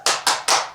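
Three sharp hand claps ring out in quick, evenly spaced succession at a children's Sunday school service, close and loud with short decays between them.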